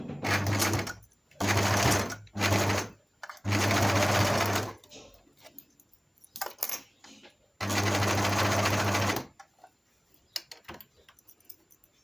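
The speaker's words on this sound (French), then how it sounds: "on va coudre le long de la fermeture éclair" A sewing machine stitches along a zipper on a small fabric pouch in several loud, even bursts of rapid whirring, with short pauses and quiet handling of the fabric between runs.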